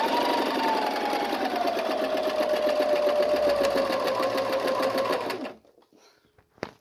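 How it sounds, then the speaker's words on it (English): A sewing machine stitches around the edges of a thick fabric face mask, running steadily with a rapid mechanical rattle and whine for about five seconds before stopping, followed by a few faint handling clicks. "I'm just going to put it here on the machine. And I'm just going to sew around the edges."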